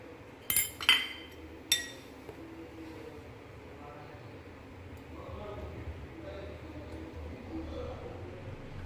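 A spoon mixes garam masala, turmeric and red chilli into fish and tomato, sharp metallic clinks against the vessel early on and then softer scraping and stirring, while someone talks throughout.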